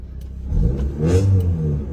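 A Honda car engine fires up with a one-click push start, catching after a brief crank and settling into a loud, throaty rev that swells and holds close by, with no talk over it.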